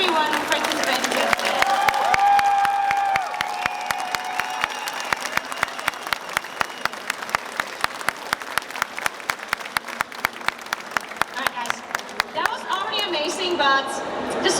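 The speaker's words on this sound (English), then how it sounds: "So please give a huge applause to everyone who participated here." Sustained audience applause at a Gamescom 2025 World of Warcraft cosplay contest, a dense wash of clapping lasting the full stretch with steady rhythmic claps throughout and a voice talking faintly over it near the start and end.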